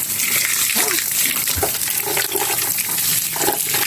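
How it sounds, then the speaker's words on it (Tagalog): Water gushes and splashes steadily and loudly inside an opened concrete tomb niche, a continuous rushing flow with no break. "May tubig mga kapatid oh."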